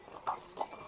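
Faint, quick clip-clop of horse hooves on a path at the Matheran hill station, two soft distant hoof strikes over quiet background.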